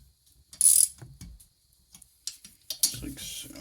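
Hand ratchet tightening bolts in a crisscross pattern on a Yamaha PW50 engine, giving short bursts of close clicking separated by pauses, with brief metallic handling noises and speech in between.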